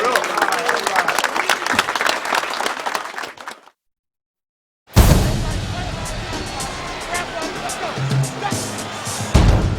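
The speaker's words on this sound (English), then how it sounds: "Give yourselves a round of applause." Big crowd applause fills a football stadium setting, loud and dense before a sudden silent gap, then resumes as a roaring mix of clapping, cheering and booming noise.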